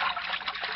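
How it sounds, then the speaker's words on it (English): Water sloshes and splashes briefly in a deep vat of ice-cold water, a continuous watery burst in an old radio adventure drama. "lands in a deep vat of ice-cold water"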